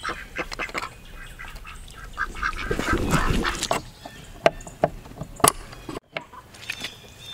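Pekin ducks, a meat breed, quacking in a flock, a loud burst of overlapping quacks and honks with scattered shorter calls nearby.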